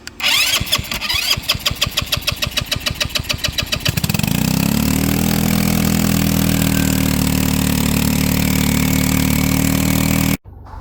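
A Honda Big Ruckus scooter with a bad fuel pump cranks with rapid rhythmic starter pulses for about four seconds, then fires and settles into a loud, steady idle up close before cutting off abruptly.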